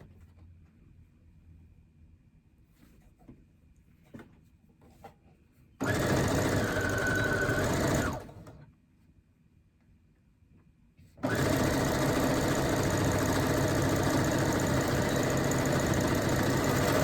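Sewing machine chain piecing fabric, running in two loud sustained bursts of stitching, one short and one longer, separated by a quiet pause with faint handling clicks.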